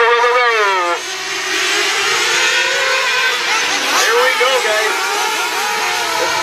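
1/8-scale nitro late model RC cars race in a 100-lap feature, their engines giving a loud, high-pitched whine that rises and falls in pitch as they circle the track, with a voice talking over them throughout.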